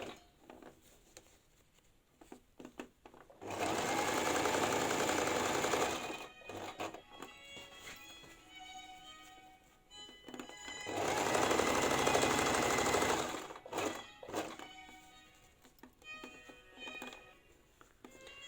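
A sewing machine stitches a zippered cushion in two long steady runs of loud, dense motor whirring, separated by quieter handling and fabric adjustments.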